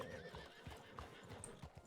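Hooves clip-clop and a horse neighs in RedM, the Wild West roleplay game, a brief close burst of hoofbeats and whinnying with no talk.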